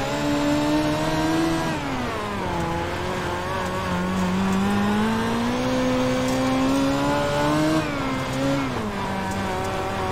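Dirt midget race car engines in the iRacing sim at Kokomo Speedway, a loud continuous whine that rises and falls in pitch as the cars accelerate and lift through the corners, with several engines overlapping throughout.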